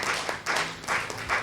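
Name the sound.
audience applause at a keynote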